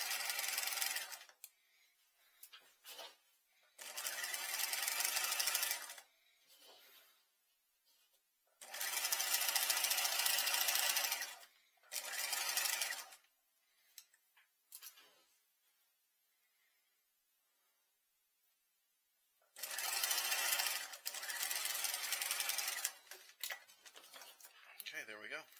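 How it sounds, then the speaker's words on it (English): Sewing machine stitching a skirt's pocket lining with a quarter-inch seam, running in several loud bursts of steady whirring separated by pauses, with short back-tack runs at the start and end. "we'll stitch that together 1/4 inch as well"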